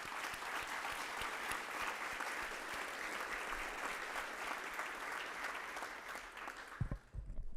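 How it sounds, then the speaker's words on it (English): Sustained audience applause for speakers at an evening talks event, a dense, even wash of clapping from a seated crowd that tapers off near the end. "A round of applause for our talkers."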